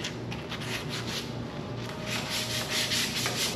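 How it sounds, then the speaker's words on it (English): Rough, continuous scraping of 80 grit sandpaper worked back and forth over a fire-damaged go-kart frame, close and steady with no talking. "I got some 80 grit. I'm about to sand the heck out of this thing."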